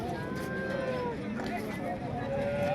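Cattle lowing at the Modnimb livestock market, long drawn moos rising and falling over a crowded background of voices and bustle, fairly close and moderately loud.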